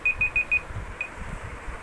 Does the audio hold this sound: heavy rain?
no